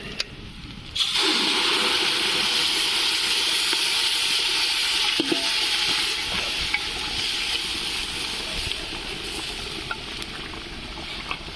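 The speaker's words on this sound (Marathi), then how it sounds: "पुरेपूर तेलात भाजलेला आहे मसाला तर आपल्याला टाकून घ्यायचं आहे मटण" Mutton goes into masala frying in oil over an outdoor wood-fired clay stove on a farm: a sudden loud burst of sizzling after a second, then a sustained crackling fry with occasional stirring clinks.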